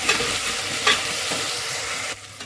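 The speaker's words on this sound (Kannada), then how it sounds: "ಇದು ಚೆನ್ನಾಗಿ ಹಸಿ ವಾಸನೆ ಹೋಗೋವರೆಗೂ ಫ್ರೈ ಮಾಡ್ಕೋಬೇಕು" A tablespoon of ginger garlic paste fries in hot oil for chicken biryani, a bright sizzle broken by a few scraping spoon strokes, then the hiss drops away abruptly near the end.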